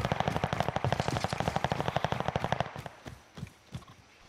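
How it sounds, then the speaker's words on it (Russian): Rapid automatic gunfire in a video game, a long dense burst of evenly spaced shots that breaks off into a few scattered single shots, heard at a distance below the player. "Право под нами где-то стрельба."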